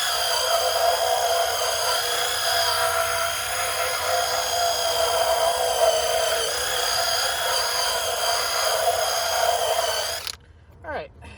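A power drill spins a Drillbrush scrubbing car mats, a loud, steady high-pitched whir with a rough brushing texture. It stops abruptly near the end, leaving a few faint knocks.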